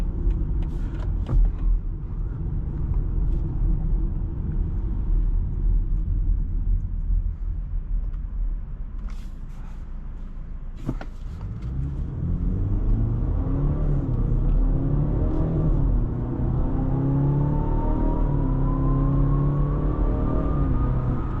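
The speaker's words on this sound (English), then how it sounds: "Acceleration is actually pretty good for being a basic X3." A 2025 BMW X3 30 xDrive accelerates from inside the cabin, a deep steady engine rumble that briefly dips, then climbs in pitch through rising revs and gear changes, loud and continuous.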